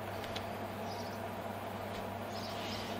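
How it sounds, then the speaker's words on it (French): An indoor air conditioner runs with a constant low hum and steady airy hiss, an even drone that neither rises nor falls and has no one speaking over it. "Je vais arrêter la clim, ça fait trop de bruit, ça me gonfle."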